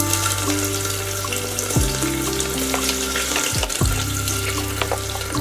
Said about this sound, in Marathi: आता कांदा टाकायचा आहे।